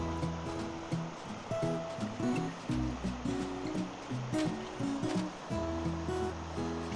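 Water from the Smith Fork stream flows and gurgles along the bank, with small rivulets rejoining the main flow, a continuous close-up rushing with uneven pulses.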